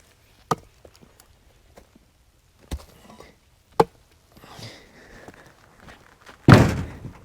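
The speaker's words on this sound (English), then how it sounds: "Close my door too, because it's starting to rain more." A truck door slams shut outdoors in rain while firewood is being collected, a loud heavy thunk preceded by a few scattered sharper knocks and soft rustling.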